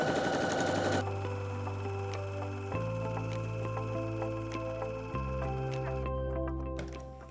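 A sewing machine stitches fabric in steady, close, continuous runs, its motor whirring and needle ticking rhythmically, with the pitch shifting between bursts as the speed changes.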